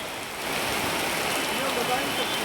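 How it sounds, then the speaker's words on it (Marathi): Steady heavy rainfall in Pune city hisses continuously, a dense, even wash of patter with no pauses. "पुणे शहरासह उपनगरामध्ये पावसाचा जोर दिसून येतो।"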